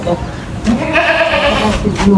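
A sick goat bleating close by, a drawn-out wavering call through the middle with a second shorter bleat near the end, over a fairly loud background of voices and noise.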